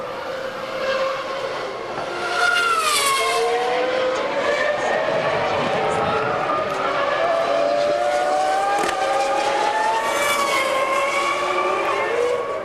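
Formula 1 car at the 2000 Canadian Grand Prix qualifying passing on a fast lap, its loud engine whine rising and falling in pitch as it goes by, with a second pass following, under continuous French commentary.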